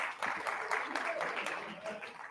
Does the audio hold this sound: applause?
yes